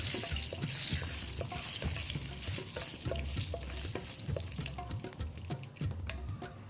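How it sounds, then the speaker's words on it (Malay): Steady crackling sizzle of spices sautéing in oil over low heat, with occasional scrapes and clinks of stirring, no voices. "Kita guna api kecil sahaja dan tumis sehingga naik wangi."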